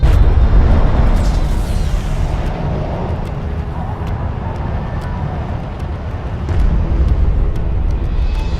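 A sensor post blown up in the video game Homeworld: Deserts of Kharak: a loud, rumbling blast rolling into a sustained low roar of fire and debris, punctuated by sharp crackling pops, with a voice speaking over it.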